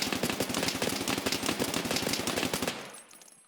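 Suppressed Mk47 Mutant rifle in a video game firing one sustained rapid automatic burst of about two and a half seconds, loud and close with clipped thumping shots, then a short fading tail.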